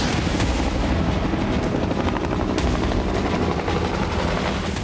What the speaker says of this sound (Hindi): यूक्रेनी हेलीकॉप्टर्स आसमान में चक्कर लगा रहे हैं